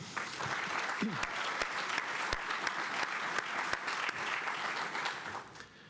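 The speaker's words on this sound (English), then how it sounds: "how about a round of applause for him?" At a spring Air Force ROTC commissioning ceremony, the audience applauds the lead cadet, a sustained, moderately distant crowd clapping with a few sharp, louder claps standing out and a brief voice near the start.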